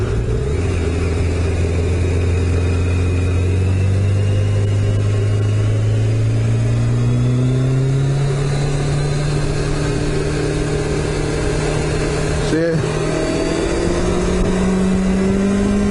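A Kawasaki ZG1000 motorcycle engine drones steadily and loudly on a rainy night ride, its pitch climbing gradually as it revs higher, with continuous road rumble underneath.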